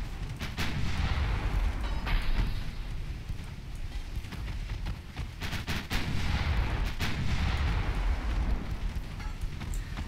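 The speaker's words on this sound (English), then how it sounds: "9-inch guns, when they hit those things, tend to make a mess" Heavy naval gunfire from 9-inch guns in the warship game Ultimate Admiral Dreadnoughts, dense repeated booms and rumbling blasts filling the whole stretch loudly, with no talking.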